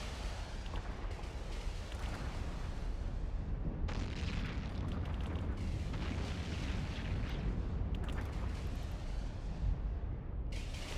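Auto missiles launch and explode in the space game EVE Online, a dense continuous roar of booming blasts and rumbling detonations, loud and unbroken, no voices.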